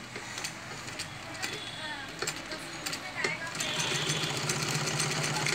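A sewing machine stitches with tightened thread tension, its needle ticking in quick regular bursts that build into a steady whirr, while people talk quietly over it.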